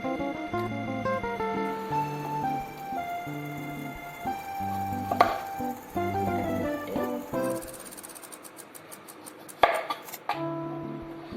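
A knife cuts peeled beetroot into small pieces on a board for beetroot kootu, a few sharp scattered knocks under steady background music.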